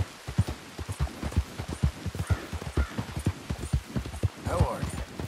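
Horse hooves clip-clop in a steady walking rhythm in Red Dead Redemption 2, close and fairly loud, with a voice talking over them.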